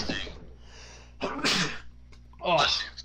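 A person sneezes sharply near the mic, the burst standing out amid casual conversation and background game audio; another voice speaks around it.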